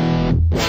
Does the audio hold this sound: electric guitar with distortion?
yes